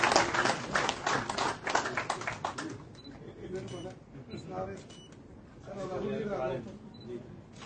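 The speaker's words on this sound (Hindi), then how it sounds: "जोरदार ताली से करें।" An audience at a BJP joining event in Jammu and Kashmir breaks into a burst of clapping that fades after a few seconds, mixed with voices talking over it.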